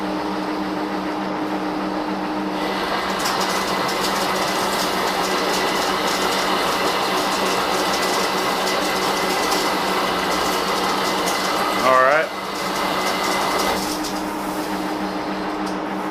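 A metal lathe cuts a bent rod at a 15-thousandths feed rate, producing a loud, steady mechanical whir with a constant hum and a brief rising squeal of the cut near the end, no talking.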